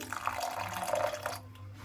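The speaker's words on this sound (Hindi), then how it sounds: "इसमें मैं हल्का सा पानी और डालूंगी।" Water trickles in a thin stream into rice batter for a few seconds, a soft close splashing pour that stops abruptly, leaving quiet.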